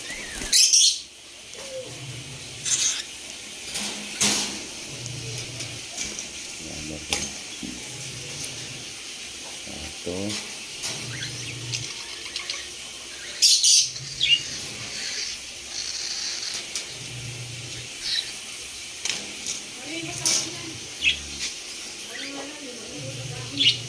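Pet cockatiels chirp and whistle in repeated bursts nearby, mixed with rustling and a few wing flaps, while a person talks over and between the calls.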